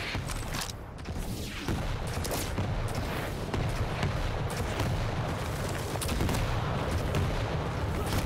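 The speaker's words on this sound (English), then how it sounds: "Rockets trading back and forth, both players taking the big damage" Rockets fire and explode during a 1v1 Quake World Championships match, a dense run of loud booms and blasts that continues for several seconds.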